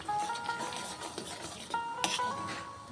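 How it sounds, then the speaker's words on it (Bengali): Coriander-leaf pickle stirred in a pan with chili powder, a utensil scraping and clinking against the metal over a soft background hiss, with a sharper clink near the end. "লঙ্কার গুঁড়োটাকে দিয়েও আমি কিছুক্ষণ রান্না করে নেব"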